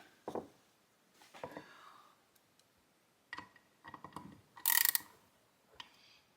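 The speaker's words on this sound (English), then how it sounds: "I'll grab a ratchet and just torque those in light" A ratchet snugs bolts on a 2012 Kawasaki KX250F dirt bike engine during a bottom-end rebuild, with scattered close clicking bursts and metallic taps separated by short pauses, one sharp bright clack near the end.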